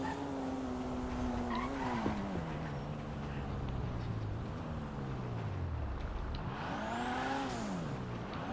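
A customized car being test driven in GTA V: a steady engine tone rises and falls through gear shifts, with tires squealing as it skids near the end, all without talk.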